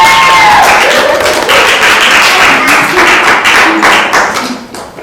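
An audience applauds actors after a classroom play about ancient Mesopotamia, dense close clapping that starts strong and thins out toward the end, with a brief tone fading at the start.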